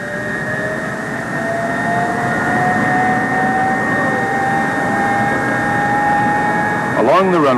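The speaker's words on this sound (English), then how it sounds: "With power and starting gear hooked up to the airplane, the engines are started." F-102 jet aircraft engines starting up with ground power and starting gear attached, a loud steady whine with rising tonal hum that builds and holds, ending in a brief louder burst.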